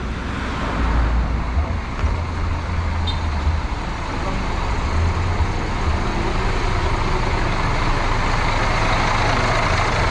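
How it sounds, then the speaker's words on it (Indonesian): Scania K410IB bus engine idling steadily up close, a constant low rumble with deep throbbing pulses, continuous and fairly loud with no talk. "mesin Scania."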